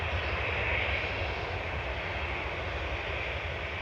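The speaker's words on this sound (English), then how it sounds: "TUI 2668 to Palma de Mallorca departing that. It's a 737-800" A TUI Boeing 737-800 departing Manchester Airport for Palma de Mallorca, its engines giving a steady, moderately distant roar with no break.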